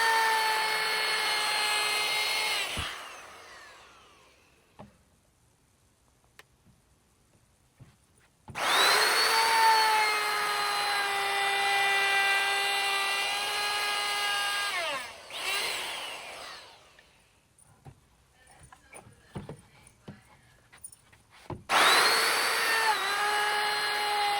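An electric router cuts jarrah hardwood with a slightly blunt bit, whining loudly in two long close bursts separated by quiet pauses with small knocks and handling noise.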